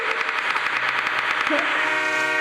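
Train arriving in a video game, a dense continuous rumble with rhythmic clattering pulses and a brief tonal horn-like note near the middle, loud throughout.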